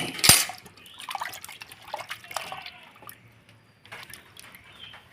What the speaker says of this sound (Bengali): মাছগুলো ধুয়ে নেব।